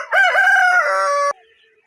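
An adult Colombian Bahama rooster gives a single loud, close crow of just over a second that cuts off sharply, with no talking around it.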